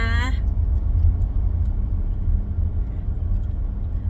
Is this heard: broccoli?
no